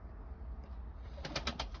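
Pigeons in a coop make a soft, low murmur of cooing throughout, then a quick run of four or five sharp flutters or taps close by toward the end.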